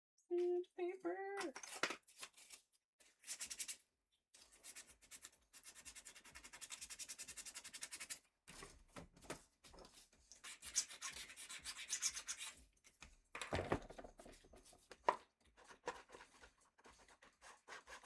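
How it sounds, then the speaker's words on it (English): Sandpaper rubbed back and forth by hand in a craft project, repeated scratchy strokes in bursts with pauses between, fairly quiet and close, with a voice briefly early on. "Sandpaper."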